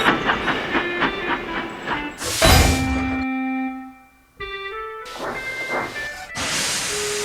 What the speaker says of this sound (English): Thomas shunted the coaches.